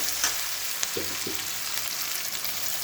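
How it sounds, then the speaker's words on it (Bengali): Ghugni being stirred in a frying pan with kasuri methi, a steady close sizzle with a few soft scraping strokes of a spatula near the start. "একটু কস্তুরি মেথি, দিয়ে আর একটু ভালো করে নেড়ে চেড়ে"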